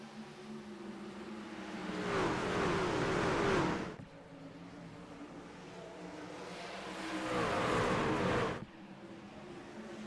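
Racing trucks in iRacing accelerate out of a restart at Rockingham, two broad surges of engine roar building and fading as the pack passes, with a steady engine drone between them.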